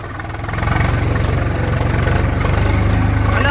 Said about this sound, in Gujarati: આ જુઓ ટ્રેક્ટર આગા પાછું જતું રહ્યા છે